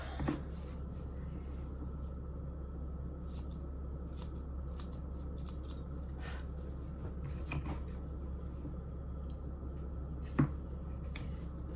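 Straight grooming scissors trim a Yorkie's hair with a series of crisp, close snips at an unhurried, irregular pace over a steady low background hum.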